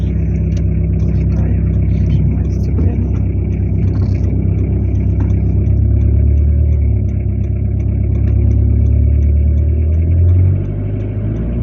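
A car with a worn, loose gear-shift linkage pulls away on a forest drive, its engine a loud, close, steady low rumble that shifts near the end as it gets moving.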